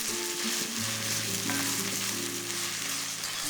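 A rice roll filling frying with oyster sauce and fish sauce gives off a dense, continuous sizzle close up, steady and even throughout with faint tonal hum beneath.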